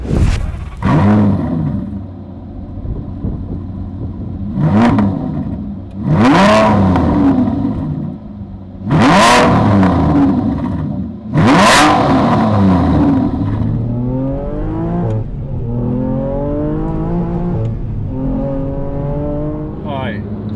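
An Aston Martin V12 fitted with a Bamford Rose exhaust drives on the road. Four loud, close revving bursts swell and fade, then the engine settles into a smoother rising drone through the gears.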